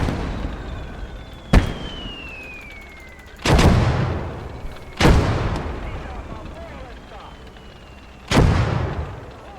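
Mortar artillery booms in the Blood Red Snow war video game, four heavy blasts at irregular intervals, each a sharp crack trailing into a rumbling decay, with a faint whistling streak between shots.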